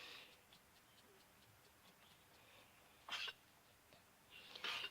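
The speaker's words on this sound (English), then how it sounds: "Somebody's trying to cough up some cud." A goat coughs while struggling to bring up its cud, giving two short, harsh bursts about a second apart over a quiet background with faint ticking.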